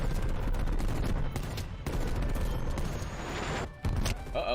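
Rapid hand cannon kill streak fire from a shooter game, modeled on an annihilator-style revolver, booms steadily and densely throughout, loud and continuous with a brief dip near the end.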